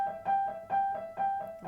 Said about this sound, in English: slow wobble between those two notes